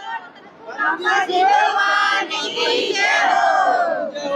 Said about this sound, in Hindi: ये नारे लगाए जा रहे हैं बंदी छोड़ के